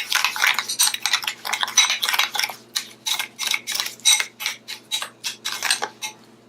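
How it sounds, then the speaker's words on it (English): A spoon stirs a banana and egg facial mask into brown sugar in a bowl, making a steady, close run of rapid scraping clinks that repeat rhythmically throughout. "We're gonna mix this in the brown sugar."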